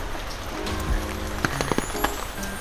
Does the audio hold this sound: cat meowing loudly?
no